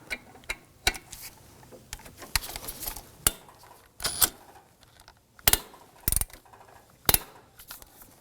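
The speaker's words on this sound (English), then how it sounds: "Using a 12mm socket, want to loosen this bolt here." Ratchet wrench with a 12mm socket loosening a bolt on a 2005-2009 Subaru Legacy 2.5L H4 engine, giving sharp metallic clicks and clanks in irregular bursts, close up.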